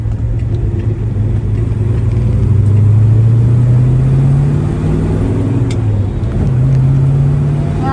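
Loud, steady engine drone heard from inside a 1966 Chevelle while driving, pitch rising and falling gently as it shifts through gears.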